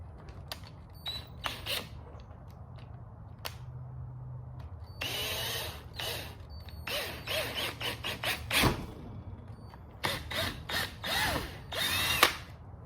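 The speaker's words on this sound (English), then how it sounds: "I'm gonna drill a pilot hole" A power drill bores a pilot hole while mounting an airbag mount ring, with repeated short bursts of whining, squealing drilling and brief pauses between them, close and fairly loud, and a low rumble throughout.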